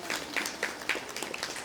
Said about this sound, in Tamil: கைத்தட்டு எல்லாரும்.